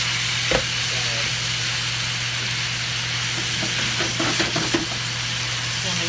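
Chicken pieces sizzle steadily in a hot pan for chicken pesto, a constant frying hiss with occasional scraping and clinks as the pieces are stirred, close up.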